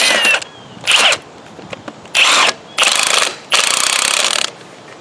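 A wrench ratchets as it tightens a nut on an external post-tension bar used for concrete repair: five or six short, close, clicking bursts separated by brief pauses, with no talking.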